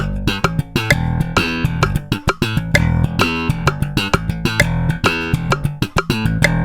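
A bass guitar plays a busy funk-rock line at full tempo, with loud, punchy plucked notes in a tight syncopated rhythm, some short and clipped and others ringing, heard close and alone.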